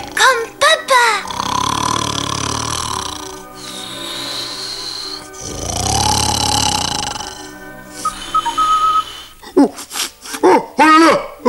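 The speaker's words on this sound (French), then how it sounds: "Et il ronfle, ce gros coquin, comme papa." A cartoon teddy bear character snores in long, rumbling, drawn-out breaths, with two loud sustained snores standing out between bursts of lively high-pitched speech and laughter.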